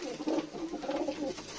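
Pet pigeons cooing close by in a short, soft, rolling burst with no talk.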